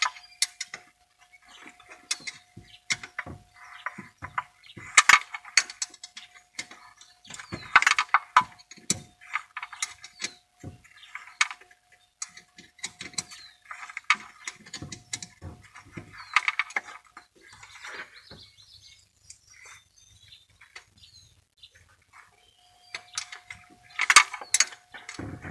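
Ratchet with a 9/16 socket working on the distributor of a Chevy TBI engine, giving quiet clicking ticks in scattered bursts over roughly twenty-five seconds, with short pauses between runs.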